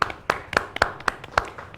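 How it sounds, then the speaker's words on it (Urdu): Sparse, scattered clapping from a studio audience on a Ramadan prize-show set cheers the day's winner, Maryam Bukhari: about seven separate sharp claps spread unevenly, close and moderately loud, with no voices. "سیٹ پہ جتنے دوست موجود ہیں سب سے کہوں گا ایک دفعہ مریم کے لیے تالیاں۔"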